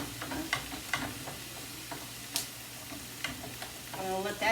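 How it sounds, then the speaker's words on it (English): Onions sauté quietly in a pan, a soft, low sizzle broken by occasional utensil taps and stirring clicks, with a brief voice near the end. "I'm going to let that saute a little bit until the onions start cooking"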